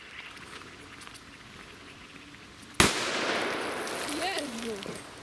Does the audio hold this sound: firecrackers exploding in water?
yes